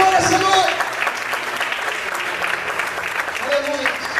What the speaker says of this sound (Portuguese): Se é para Deus, tem que ser mais forte as palmas.